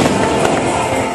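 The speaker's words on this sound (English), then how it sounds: "I've seen the fireworks a million times." Fireworks over Rainbow Bridge in Penghu, a dense, continuous crackle and rumble of bursts heard from within a large crowd, with a sharp pop near the middle and faint crowd noise mixed in.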